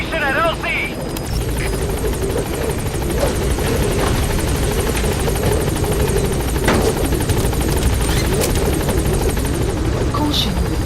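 Pequod's helicopter from Metal Gear Solid V: The Phantom Pain holds steady over a landing zone, its rotor wash a loud, continuous throbbing roar with a brief radio-style voice at the start and faint chirps and clicks over the top.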